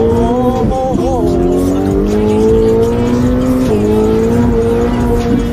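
A Ferrari F8 Tributo, a rear-wheel-drive supercar, accelerates hard with a loud, close engine roar whose pitch climbs steadily, briefly dips at a gear change and rises again, filling the whole stretch.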